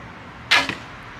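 A single arrow is loosed from a bow without string silencers, giving one sharp loud twang-and-whoosh close by, followed almost at once by a quieter thud as it strikes a target, set against faint outdoor background hiss.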